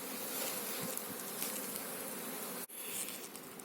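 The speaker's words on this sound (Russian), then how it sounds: "Соскучились пчелки." Honey bees swarm around a record-producing beehive after days of rain, a dense, steady buzz of many insects close by, continuous and unbroken apart from one brief dip, with no voices.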